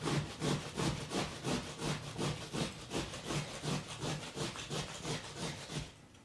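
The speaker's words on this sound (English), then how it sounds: "onion, I like to just grate it" An onion grated by hand into pulp, with a steady rhythmic rasping scrape repeated about three times a second, close and fairly quiet, with no talking.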